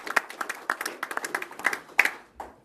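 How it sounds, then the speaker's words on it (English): A small audience at a company annual meeting gives a short round of applause. The claps are sparse and distinct, close and moderately loud, and fade out after a couple of seconds. "that's probably worth a round of applause on its own"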